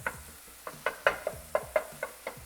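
Ground chicken cooks in an oversized pan, a spatula stirring and scraping it in a steady rhythm of sharp strokes, roughly three or four per second, over a soft sizzle.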